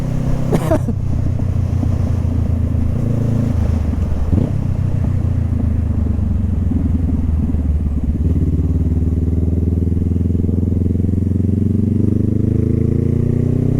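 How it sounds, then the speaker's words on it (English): A Honda CB500F motorcycle engine rumbles close by, throttling up with a brief rev partway through, then settles into a steady idle as the bike pulls up. "It's me hopping on the bike and I just pulled up to the spot."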